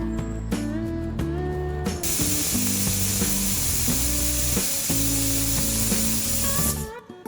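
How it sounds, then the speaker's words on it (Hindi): A pressure cooker whistles on the stove while Maharashtrian valache bhaat (masala rice with field beans) cooks, a loud, steady high-pitched steam hiss running for several seconds over a background of music. "दो विसल हो गए हैं।"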